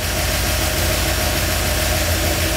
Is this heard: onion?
no